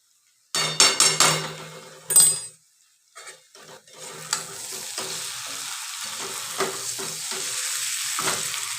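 Spiced potato curry (vegetarian aloo dum) with coconut milk, chilli powder and sugar being sautéed in a pan: a few loud spoon-stirring scrapes and knocks early on, then a steady close sizzle that keeps building, with no talking.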